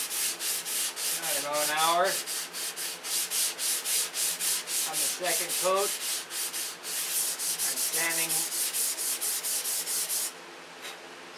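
Steady rhythmic rubbing of 320-grit sandpaper flattening a finish, repeated strokes in an even back-and-forth pattern while a person talks softly over it.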